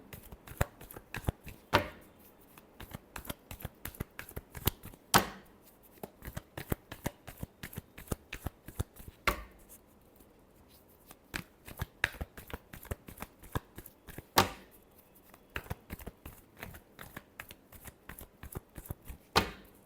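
Tarot cards are shuffled by hand at close range, rapid riffles and crisp flicks repeating in bursts with a few sharper slaps and short pauses between rounds.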